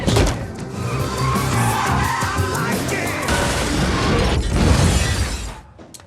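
A car in a film action scene skids and overturns, a sustained loud roar of tire screech, crashing metal and shattering debris that swells near the end before cutting off abruptly.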